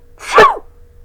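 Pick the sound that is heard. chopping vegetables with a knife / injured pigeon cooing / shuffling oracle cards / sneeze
sneeze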